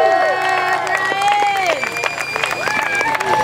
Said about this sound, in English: Can I hear a round of applause?